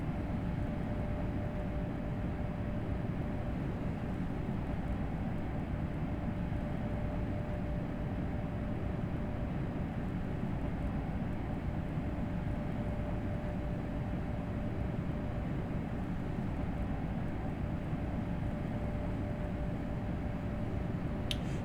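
An ICE 1 high-speed train in Train Sim World 3 climbs a grade at full throttle, a steady low traction rumble with a thin constant motor whine running unbroken throughout, no voices.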